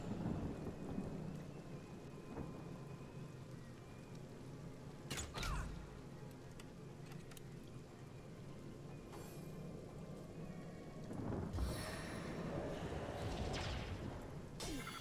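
Steady rain falls in the video game Divinity Original Sin, a continuous dense hiss with rumbling thunder and a few sharp cracks, loud and ambient with no talk.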